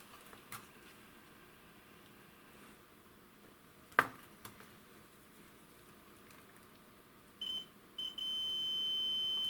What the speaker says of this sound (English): And then I will use my continuity tester.